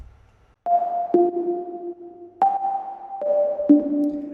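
Synthesized tonal notes combine a dry layer with a fully reverberant layer, giving sustained, sonar-like pitched tones that step between notes, each starting sharply and ringing on smoothly, clean and alone.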